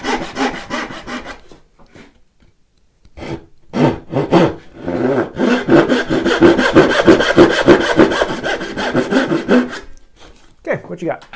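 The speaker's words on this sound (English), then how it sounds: "let me just make these cuts" A hand saw cuts dovetails in wood for a flower box, with rapid rasping strokes that start in short bursts, then settle into a long steady run of back-and-forth sawing, close and loud.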